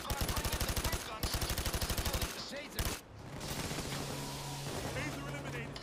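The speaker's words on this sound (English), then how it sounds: "I'm bringing the big guns" Sustained rapid automatic gunfire rattles in a PayDay 2 VR heist at a mall, loud and close, in rhythmic bursts with a short break before more scattered shots and game noise.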